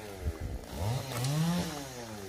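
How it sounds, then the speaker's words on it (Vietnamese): A chainsaw cuts into an old, hard-wooded tamarind tree, its engine rising in pitch as the blade bites, heard fairly close and alone for a couple of seconds. "Mọi người sẽ cưa một cây me nha các bạn."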